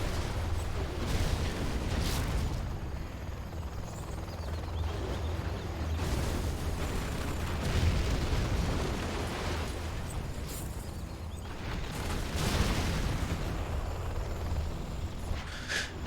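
Artillery and missile explosions in a multiplayer video game match, a continuous rumbling barrage of booms with several louder blasts breaking through, steady and dense throughout with no talking.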